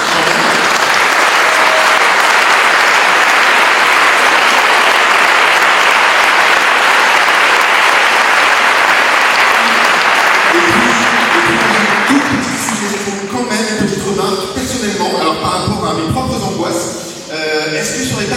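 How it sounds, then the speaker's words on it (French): Loud, dense applause from a large audience at a citizens' assembly fills the first twelve seconds, then fades out as voices and crowd murmur take over. "Franchement, déjà on pourrait les applaudir un peu."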